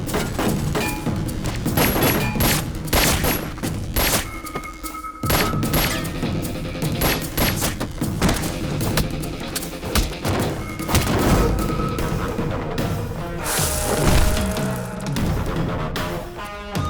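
Gunfire erupts in a film climax scene, dense rapid volleys of loud booming shots and thuds layered over music and effects, continuous and intense throughout.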